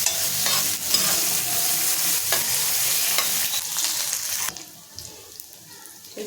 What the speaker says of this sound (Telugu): మనం సన్న కట్ చేసి పెట్టుకున్న ఒక ఉల్లిపాయ, 2 పచ్చిమిర్చి వేస్తున్నానండి. అలాగే కొంచెం కరివేపాకు వేస్తున్నాను.